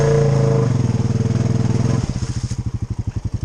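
An off-road Outlaw 300 engine runs loud and close while the machine works through sticky clay and swamp, its rhythmic chugging pulses steadying into a slower, heavier beat partway through.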